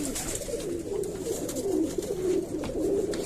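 Pigeons coo softly in repeated low, rolling calls against a steady background hum, close by and without any talk.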